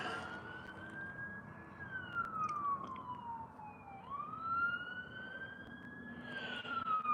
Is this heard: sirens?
yes